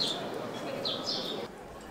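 Several small birds chirp with short high tweets over a steady outdoor murmur on a city street in Valletta, Malta, the calls moderately close and ending before a quieter final stretch.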